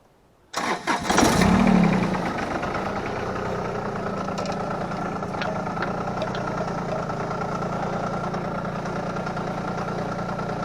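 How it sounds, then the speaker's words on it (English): Tractor engine cranking and catching after a short silence, with a brief loud surge as it fires, then settling into a steady, rumbling idle that continues close by to the end, with no one talking. "So let's get the tractor started."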